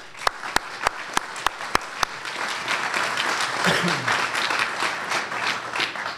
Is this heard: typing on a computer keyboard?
no